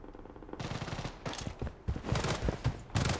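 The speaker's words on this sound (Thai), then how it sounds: "โอ้โหยิงจนลูกหมดอ่ะ" Gunfire in the shooter Blood Strike comes in several bursts of rapid automatic shots separated by short pauses until the weapon runs dry, moderately loud and close.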